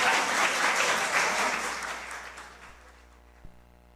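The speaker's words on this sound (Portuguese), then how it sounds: "Uma salva de palmas, por favor." Applause for an award honoree at a municipal ceremony, a full crowd clapping loudly at first, then thinning and fading out over a few seconds.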